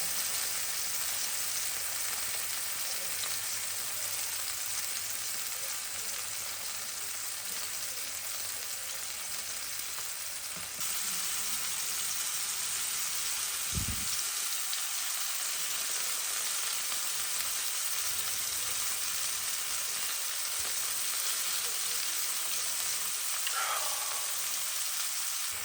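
Meat browning in a frying pan for St. Patrick's corned beef Reubens, a steady broadband sizzle and crackle running throughout, growing brighter partway through, with a brief low knock of the pan near the middle.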